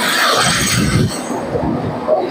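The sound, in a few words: local train arriving at Majerhat station platform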